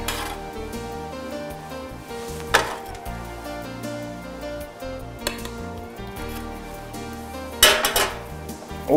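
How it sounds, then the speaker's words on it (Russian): Clinking and clattering of cutlery and dishes as cooked dorado is placed on a blue plate, with several sharp clinks standing out against a softer background, and no talk. "мы с вами положим на красивую синюю тарелку."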